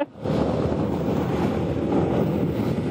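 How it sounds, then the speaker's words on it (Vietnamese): Strong sandstorm wind buffets a rider on a motorbike in Cambodia, a loud, steady roar of wind noise that surges briefly at the start and then holds, with no talking. "Bão cát, bão cát."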